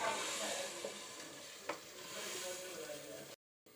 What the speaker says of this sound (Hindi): इन सारे मसालों को मैं अच्छी तरह से इसमें हिलाकर और मसाला भून लूँगी बहुत अच्छे से